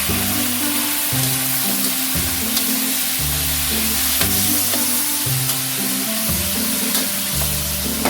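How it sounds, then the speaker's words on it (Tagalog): Boiled chicken poured into a hot pan for Filipino chicken adobo, setting off a loud, steady sizzle and frying hiss that holds throughout, with faint stirring movement underneath. "Ibubuhos na natin yung ating chicken. Ayan, yung ating pinakuluan na chicken."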